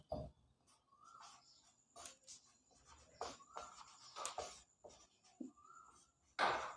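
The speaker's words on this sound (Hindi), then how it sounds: "यहाँ पर हम लोग सर्वप्रथम उस चैप्टर का नाम लिखते हैं" Chalk or marker writing a chapter heading on a classroom board, with repeated short scratchy strokes separated by brief pauses, close and fairly quiet, and no talking.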